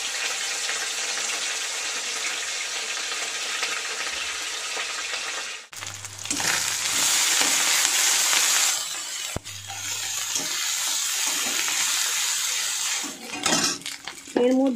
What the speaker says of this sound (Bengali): এবারে এর মধ্যে আমি মাছগুলো একটু ভেজে নেবো